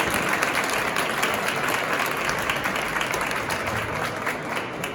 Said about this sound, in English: I think that deserves a huge round of applause.